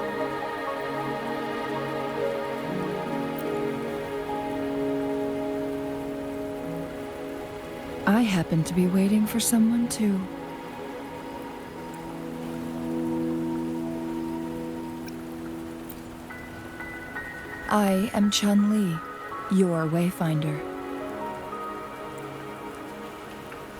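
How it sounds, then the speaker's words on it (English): Steady rain patters down continuously in the video game Wuthering Waves, a soft even wash that runs beneath two brief spoken lines of dialogue. "Are you trapped here by the rain?"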